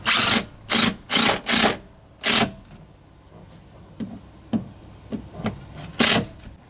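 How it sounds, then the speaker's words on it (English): A power drill drives wood screws with a star bit while reinforcing a self-built van floor drawer, with several loud, close bursts of whirring followed by shorter, quieter spurts. "drill first, and then he's using wood screws with the star bit"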